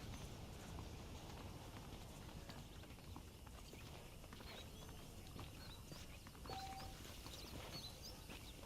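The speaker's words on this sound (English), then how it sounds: "The horses are saddled up over here." Horses' hooves clip-clop steadily on the ground in the video game Red Dead Redemption, a continuous plodding rhythm mixed with birdsong and ambient outdoor game noise, with no talking.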